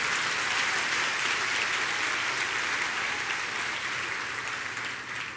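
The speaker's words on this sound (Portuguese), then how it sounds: "pode dar uma salva de palmas ao Senhor." A church congregation gives the Lord a sustained round of applause, dense and steady throughout, loud and filling the room with no speech over it.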